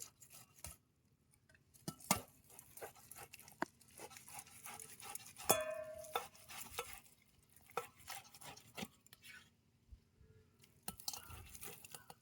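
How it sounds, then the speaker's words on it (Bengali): Pulp from palm fruit is worked across a grater in a scraping, rubbing rhythm, with soft repeated strokes and faint wet crunches, quiet and close with no talk. "একটা গ্রেটার নিয়ে নিয়েছি তালটা ছানতে"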